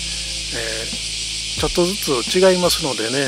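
Tsukutsukuboshi cicadas (Meimuna opalifera) calling outdoors in Hyogo Prefecture, Japan, heard as a continuous high, hissing drone in the background while someone talks over it.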